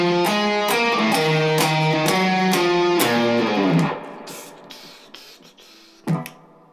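Guitar riff played as a lesson demo: a run of sharp, evenly spaced, distorted stabs in a steady driving rhythm for about four seconds, then a decaying tail and one final accent, with no talking.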